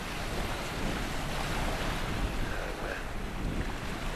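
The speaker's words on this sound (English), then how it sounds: "It makes the big waves there, Jack." Waves from a passing boat's wake wash and churn close by on a lake at Milang while strong wind buffets the microphone throughout.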